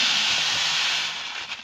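Aquarium substrate pours from a bag in a continuous close, bright rushing hiss that eases off slightly toward the end, with no talk.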